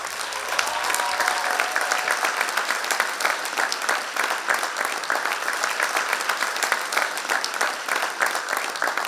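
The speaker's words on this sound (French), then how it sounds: "On peut les applaudir." A large audience at an evening awards gala applauds continuously, dense and even clapping from many hands holding a steady level throughout with no talk over it.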